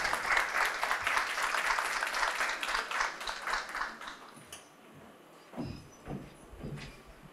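Warm applause from a mostly female audience at a mentoring program event welcoming a speaker, dense clapping for several seconds that dies away into a few scattered claps and faint room noise.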